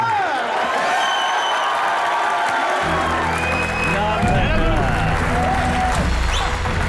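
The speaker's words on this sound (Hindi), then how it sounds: "जोरदार तालियां।" Studio audience applauding and cheering on an Indian comedy talk show set, loud sustained clapping with whoops, while background music plays underneath and voices call out.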